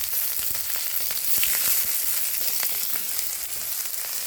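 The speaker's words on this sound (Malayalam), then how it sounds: "എണ്ണ ചൂടായിട്ടുണ്ട്. ഞാൻ കടുകിടുവാണ്." Mustard seeds crackle and pop in hot oil in a pan, a dense steady sizzle dotted with sharp scattered snaps, close and fairly loud with no voices.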